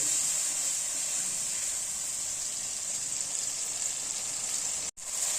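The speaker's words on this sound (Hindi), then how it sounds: "अब ये देखिए हमारा अच्छी तरह से मसाला ये भून चुका है" Masala with Kashmiri chili frying in ghee for kofta gives a steady, close, even sizzle with a bright hiss, unbroken except for a brief dropout near the end.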